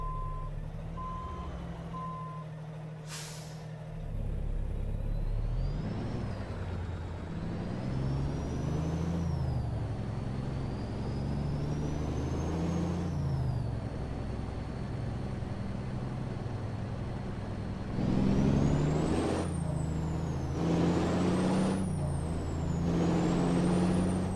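A blacked-out International LoneStar truck gives a sharp, brief hiss as its parking air brakes release. Its diesel engine then rumbles and revs as it pulls out, with repeated rising tones and a steady reversing beeper nearby. No voices.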